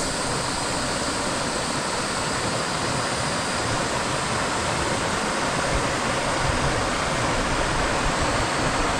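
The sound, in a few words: spring water gushing from hole beneath cliff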